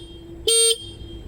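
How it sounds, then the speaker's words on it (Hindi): A single short, bright beep sounds from the basic horn of a Suzuki V-Strom SX 250 motorcycle, lasting about a quarter second against quiet background hum. "अब इसका हॉर्न का साउंड भी मैं आपको सुना देता हूँ। बहुत बेसिक सा है"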